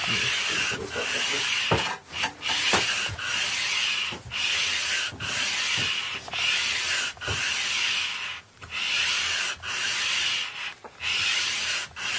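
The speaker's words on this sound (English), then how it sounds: "This is 220 grit, and when it's done we can go over this with much finer paper as well to shine it up" Sandpaper of 220 grit rubs back and forth along the fretboard of a 1983 Japanese Squier Stratocaster, a steady raspy hiss in repeated strokes broken by short pauses, close and alone.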